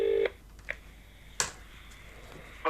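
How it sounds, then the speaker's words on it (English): Telephone dialing tones on speakerphone: a loud keypad beep at the start, then a couple of fainter, brief tones with quiet gaps between them. "I'm going to try and dial out,"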